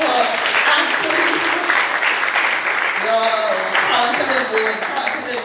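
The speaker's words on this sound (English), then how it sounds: "give another round of applause" An audience claps in sustained, dense applause at a spoken-word and music showcase, with a voice talking over it as it continues.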